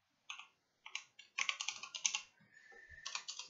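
A computer keyboard clicks under quick typing in short bursts, with a pause between groups of keystrokes, close and fairly quiet, no talking.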